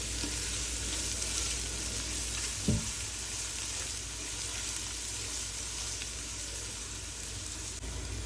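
Steady oil sizzle of ginger garlic paste frying in a pan, continuous and close, with one brief stir or scrape partway through; no talking.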